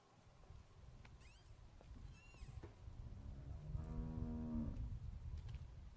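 A cow lowing in The Walking Dead game, a long mid-pitched moo swelling near the end after some quieter creaks and clicks, with faint ambient farm noise beneath.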